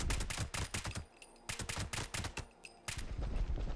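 Bursts of rapid gunfire in Fallout 76, loud clattering volleys separated by short gaps, with a few faint tonal hits between bursts.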